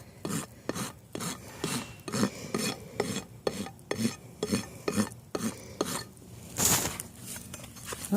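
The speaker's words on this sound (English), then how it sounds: "And then I take the soft side of the rasp and just go around" A farrier's rasp drawn around the edge of a hoof during trimming, producing repeated rough scraping strokes in a steady rhythm, close and moderately quiet, with a brief brighter scrape near the end.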